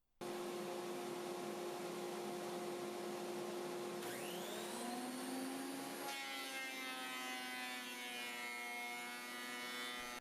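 Thickness planer cutting a wooden board held on a planer sled, a loud continuous whining roar with a pitch shift midway as the cut changes, close and alone with no talk.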